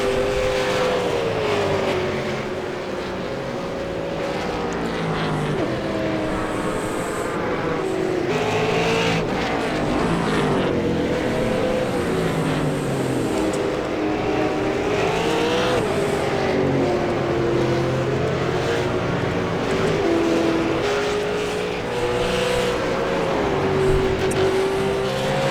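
A V8 Supercar laps Phillip Island in iRacing, its engine roaring loud and steady, with the pitch climbing and falling through gear changes and corners for the whole run.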